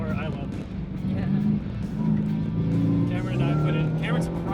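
A supercharged Ford Raptor pickup drives along a dirt route, its engine droning loud and steady with a rising, tonal whine.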